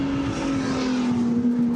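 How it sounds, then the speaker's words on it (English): A steady, droning car engine hums loudly and continuously, holding a constant pitch with no talking over it. "They just like their revved up cars around here"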